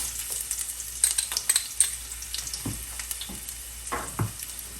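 Onions sizzle in two tablespoons of hot coconut oil, a close, crackling fry. Scraping and stirring clicks from a utensil in the pan are heard over it.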